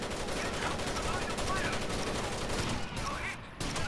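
Dense, continuous gunfire from a shotgun-heavy firefight in the shooter game Rainbow Six Vegas 2, loud and unbroken, with voices talking underneath.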